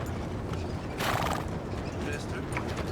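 In Red Dead Redemption 2, a horse gives a loud whinny over steady clip-clopping hooves, with a voice talking throughout.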